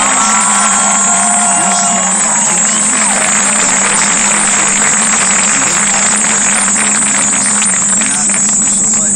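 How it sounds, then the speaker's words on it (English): A crowd at Lincoln High School's 2023 graduation applauds and cheers the senior class in a loud, continuous, heavily compressed roar of clapping and shouting that carries from start to end. "give a round of applause and recognize our guest of honor, the 2023 senior class of Lincoln High School"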